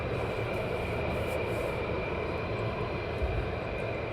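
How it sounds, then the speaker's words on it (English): A KC-135 military aircraft flying in the distance near RAF Lakenheath and Mildenhall, heard as a steady, even engine roar with a faint high whine, constant throughout with no talking. "I've got the KC-135 in the distance."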